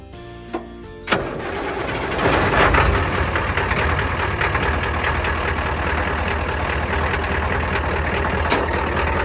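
A truck engine cranks with a couple of clicks, catches and settles into a loud, rough, uneven idle with knocking that continues steadily to the end.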